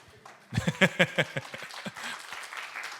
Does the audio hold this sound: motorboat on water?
no